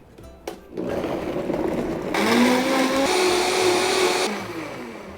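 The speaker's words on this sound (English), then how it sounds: "Your blender may not be super powerful like this crazy one" A blender motor roars loudly and steadily while pureeing fruit, its whine climbing in pitch partway through as the blades spin up, then settling before winding down.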